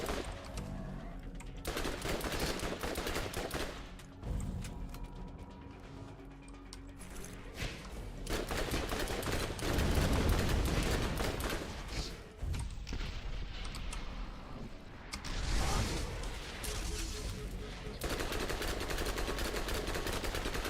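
SMG gunfire in the Borderlands video game, loud rapid automatic bursts repeating in dense clusters with short gaps, mixed with heavy impact thuds and game effects throughout, with no talk.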